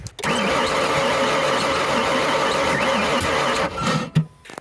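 A project car's engine cranks without starting, the starter spinning it in a steady, loud, continuous whir for about three and a half seconds before it cuts off, followed by a few brief clunks.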